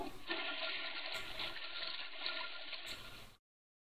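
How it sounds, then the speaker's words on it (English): A household toilet flushes with a steady rush of water for about three seconds, close and loud, then cuts off abruptly into silence. "Toilet flush. Maybe it flushes upstairs toilet as well."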